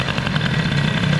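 A cold motorcycle engine with a tuned carburettor idles steadily while warming up, a close, continuous mid-pitched throb with even firing pulses and no voices over it.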